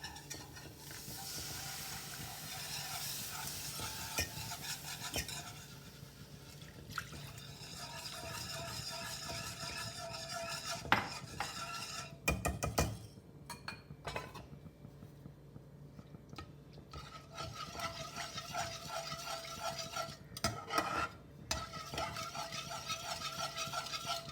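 Milk being stirred slowly into flour fried in a pan for chicken malai kabab, a soft, continuous sizzle with scraping and wet stirring sounds, close but quiet, broken by a few sharper clatters midway.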